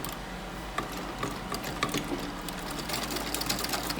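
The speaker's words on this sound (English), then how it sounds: "So I'll start sewing that way." A sewing machine runs steadily while stitching the seam of a flare skirt, its fast mechanical whirr continuous and close, with small clicks and shifts in pace as the fabric is guided.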